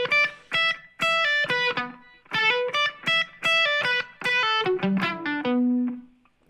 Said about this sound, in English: You can play just an open string, but palm mute it with your right hand.